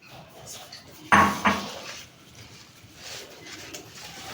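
Fresh cream and fruit chaat lightly seasoned with chaat masala being stirred in a bowl, with a couple of sharp utensil clinks against the bowl near the start, then softer scraping and stirring.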